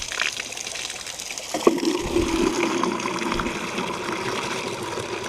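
Well water pours steadily into a container, a continuous close splashing stream that deepens in tone after a brief knock partway through, with no talking.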